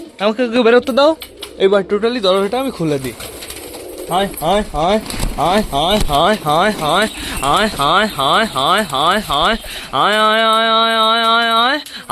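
Pet pigeons in their loft make repeated, close, warbling coos in rhythmic runs, with a longer sustained call at the end and a voice that seems to be mixed in.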